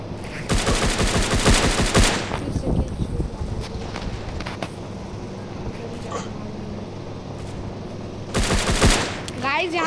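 Bursts of gunfire in the online shooter Free Fire, a loud rapid volley at the start and another near the end, with scattered shots in between and game ambience throughout.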